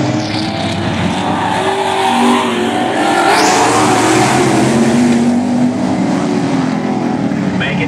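Race cars roar around a track on the final lap, a loud, continuous engine drone with passing whines and tire noise, close and dense throughout.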